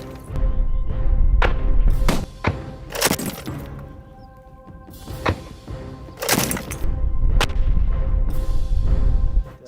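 An MK-19 grenade launcher firing outdoors: a string of loud, sharp booming shots at irregular intervals, each with a ringing decay and a brief lull between bursts.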